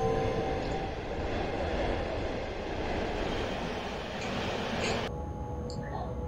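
An EU47 electric locomotive pulling eight modernized wagons in the MaSzyna train simulator powers up, giving a steady rolling rail rumble with faint tonal hums that cut off abruptly near the end.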